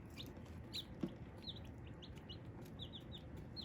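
Soft, high chirps and peeps from young chicks in a brooder repeat in quick bursts over a low hum, with a small thump partway through.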